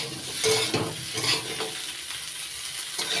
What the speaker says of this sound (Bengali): এবার দিয়ে দিচ্ছি শিম, শিমগুলো দিয়ে একটু নাড়াচাড়া করে নিচ্ছি।